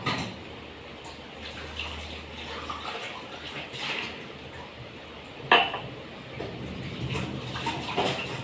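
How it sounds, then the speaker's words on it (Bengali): Dishes are washed at a home kitchen sink while cooking: running water with clinks and knocks of pots and utensils, a sharper clatter midway. "রান্না করতে করতে কিছু বাসন ধুয়ে ধরি"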